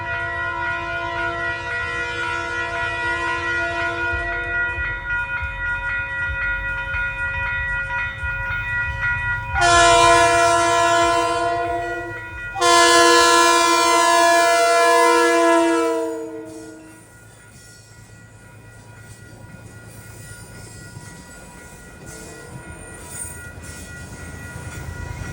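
Metro North commuter train 874 from Poughkeepsie to Grand Central passes at Peekskill with a Conrail heritage unit on the rear, a steady rumble of cars broken by two loud, long horn blasts in the middle.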